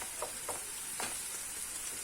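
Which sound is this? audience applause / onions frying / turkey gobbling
onions frying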